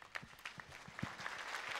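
Brief applause from an audience at the Popstar season 7 finale, thanking Selçuk Tekay and his orchestra. A thin patter of claps rises and falls over about two seconds with a faint room wash.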